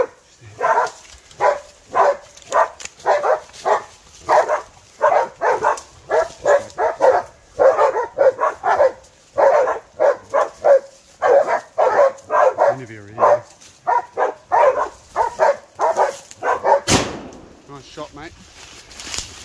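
Hunting dogs bark repeatedly and rapidly at a bailed boar during a New Zealand pig hunt, a loud, near, continuous run of barks with occasional yips and whines.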